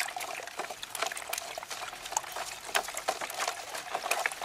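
Liquid organic fertilizer made with chicken manure being stirred in a container, giving continuous close sloshing, bubbling and splashing with irregular wet spatters throughout.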